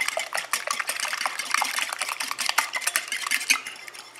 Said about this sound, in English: to my eggs, I'm going to add about a quarter cup of milk or so. And whisk that up.